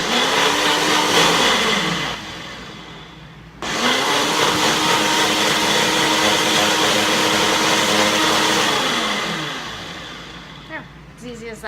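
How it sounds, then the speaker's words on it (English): A blender on high whirs loudly as it blends cashews into cashew milk. It cuts out briefly, roars back for several seconds, then winds down and stops. "So you want to blend it up really good."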